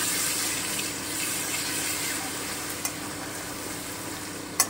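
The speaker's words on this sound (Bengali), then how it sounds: "এবারে আমি কাজু বাদামের পেস্টটা দিয়ে দিচ্ছি। হালকা করে একটু মিশিয়ে নিই।" Cashew paste being stirred into a butter paneer curry in a hot pan: a loud, continuous sizzling hiss with a soft spoon clink near the end.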